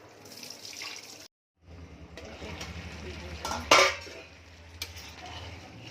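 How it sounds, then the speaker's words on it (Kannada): Water runs steadily from a tap with a soft hiss, joined by clinks of dishes and utensils, a brief silent gap, then a louder splash. "ಇದು ನೀರು ಹೋಗುತ್ತೆ ನೋಡಿ"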